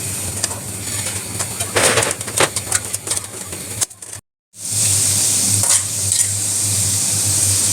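Five or six garlic cloves sizzle in a little hot oil for a tempering for chicken-feet nihari, with stirring scrapes; the frying drops out briefly, then returns as a loud, steady hiss.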